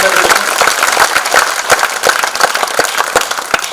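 Audience at a Tamil political meeting clapping and applauding, a dense run of sharp claps at steady strength throughout, with a voice faintly mixed underneath.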